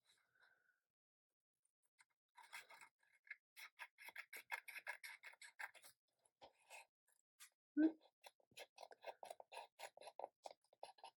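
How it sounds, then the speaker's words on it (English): Precision scissors snip and trim journal paper with a series of quiet, rapid clicks and rasps in bursts, plus a brief louder thump partway through, all close and faint. "So I think that an easier trim this time will be with precision scissors."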